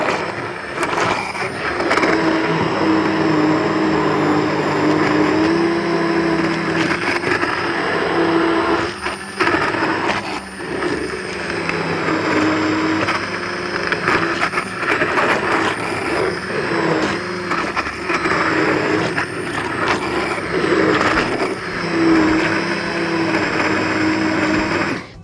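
A blender steadily purees cooked pumpkin for soup, its motor whirring loud and continuous for the whole stretch, with slight dips in pitch as the thick mixture churns.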